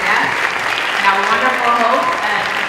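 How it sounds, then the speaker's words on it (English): Applause from the audience at a cannabis science and education event at Roxbury Community College, a steady wash of clapping throughout with voices mixed in. "Let's have a round of applause for our esteemed panelists, special guests"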